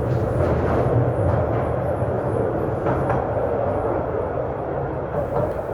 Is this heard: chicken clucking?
no